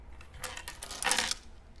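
A big handful of dice rattled and tumbled together in quick, clattering bursts, the brightest flurry near the end, heard alone at a close, moderate level.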